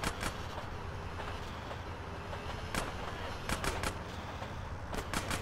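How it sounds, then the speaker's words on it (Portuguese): A train approaching in the video game GTA San Andreas: a steady, loud rumble of rolling wheels with sharp clicks and clacks on top, close and continuous throughout, with no voices. "Big Smoke, tem um trem vindo."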